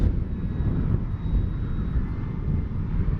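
An E-flite Carbon Z T-28 RC airplane flies in to land into the wind, giving a steady, fairly close engine drone mixed with wind buffeting the microphone, with no talking.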